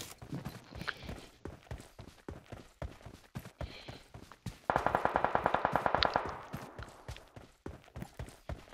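A rapid automatic burst of gunfire in a video game cuts through a steady patter of quick footsteps and clicks, loud and close for a couple of seconds before the footsteps continue alone.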